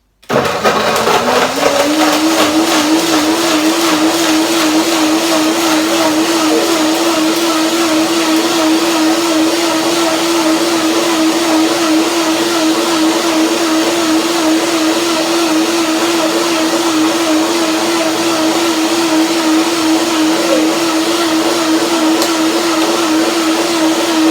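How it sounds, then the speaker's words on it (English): A blender whirs chia pudding with apple and cardamom, starting with a sharp spin-up and then holding a loud, steady motor whine for over twenty seconds with no voices. "Blender dance."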